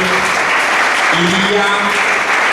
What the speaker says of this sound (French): En applaudissant, s'il vous plaît.